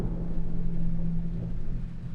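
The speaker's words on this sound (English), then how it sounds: "That was thunder. That was thunder." Distant thunder rolls low and steady during a summer thunderstorm in the Swiss Alps, a continuous deep rumble lasting a couple of seconds, fairly faint and without talk over it.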